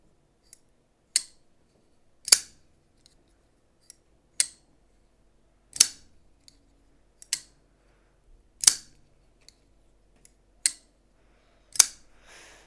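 A Chaves Redencion Kickstop folding knife being closed repeatedly, giving sharp, crisp metallic clicks at roughly regular intervals, loud and close with silence in between.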